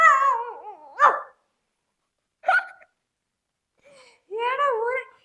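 A voice imitates a Shih Tzu puppy barking, giving a few yappy vocal barks and yips in separate bursts with short gaps of silence between them.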